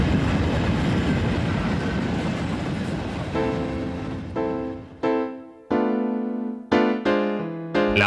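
A freight train rolls along the rails in a loud, dense rumble that thins out into ringing, sustained metallic tones, with several sharp squeals and clanks near the end.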